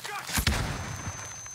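Gunfire in the Call of Duty video game: a couple of sharp, loud bursts early on, then a fainter shot, set against a low game backdrop.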